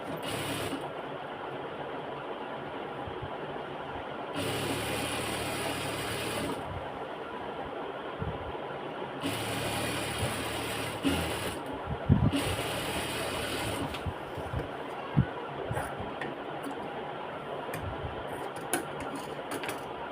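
A sewing machine runs in several separate bursts of stitching, locking and then pressure-stitching a seam on a garment design, with quieter handling and clinking between runs, close and moderately loud.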